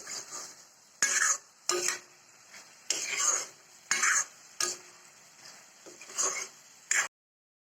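A utensil stirs fish curry in a pan, making a series of short scraping and clattering bursts at an irregular rhythm over a soft sizzle, heard close up.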